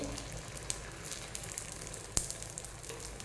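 Egg roll with onion and green chili frying on a chapati in a pan over medium heat, a soft steady sizzle with occasional tiny pops and crackles, quiet and close.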